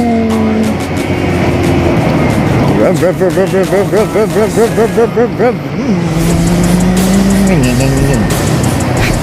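Loud motorcycle engine while riding, revving up and down in pulsing waves with gear shifts, close and continuous, with voices talking over it.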